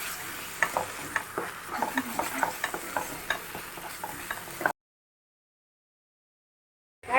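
Fish curry gravy sizzles and bubbles in a hot pan of oil while a spoon stirs and scrapes it, steady close frying noise that cuts to silence before a brief return.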